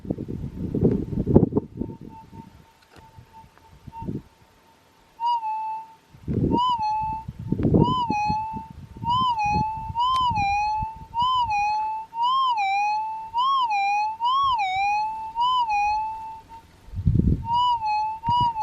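A Minelab GP gold metal detector gives a warbling electronic target tone that repeats and swells as the coil passes over the target, with scraping handling noise at the start and end.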